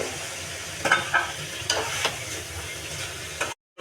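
Radish tipped into a hot frying pan with green chilies, turmeric and salt, then stirred, giving a continuous sizzle with a few scraping strokes and clatters before cutting off abruptly.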